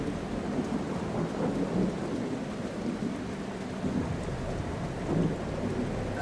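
Thunder and heavy rain in a video game, a steady low rumble with continuous rainfall hiss and a few swelling thunder rolls, filling the scene without pause.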